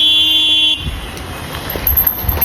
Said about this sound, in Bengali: এত বড় একটা রাস্তা তবুও সে হর্নের পর হর্ন দিল